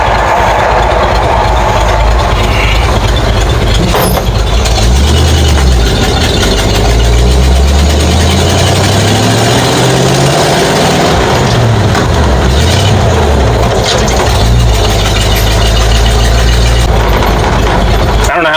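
A truck engine idles and works through gears from inside the cab, a loud, close, continuous rumble with pitch rising and falling, while a voice talks over it at times.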